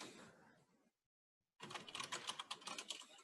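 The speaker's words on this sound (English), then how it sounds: "You're typing a lot." Fast typing on a computer keyboard during a streamer trivia game, dense clicking clatter close by, stopping for a brief silence before resuming more intensely.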